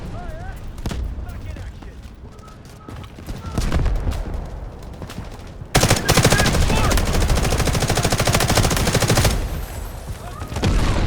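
Rapid automatic gunfire from an M4A1 rifle in the video game Delta Force: Hawk Ops. Scattered shots at first give way to a loud, sustained burst of fire, close and dense, with game sounds underneath.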